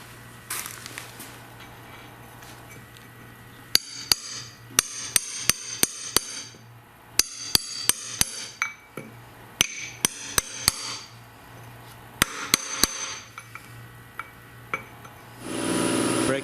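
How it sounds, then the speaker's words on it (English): Sharp metallic strikes of a hammer on a punch, bending a bearing adjuster on a GM 9.25 front differential, coming in quick clusters of ringing hits separated by short pauses. "I'm going to take a punch and a hammer and bend this other adjuster down"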